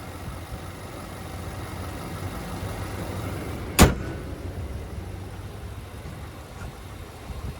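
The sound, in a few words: 2020 Nissan Armada Platinum 5.6 liter V8 engine running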